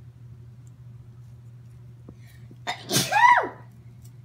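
A single loud sneeze erupts near the end, close and sharp, over a steady low hum; one quick word is spoken just before it.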